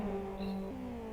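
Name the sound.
race cars revving in the racing game Live for Speed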